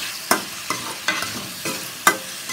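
Onions and capsicum sautéing in a pan for a Chinese-style mushroom fry, with a few distinct scraping stir strokes over a gentle frying sizzle, heard up close and alone.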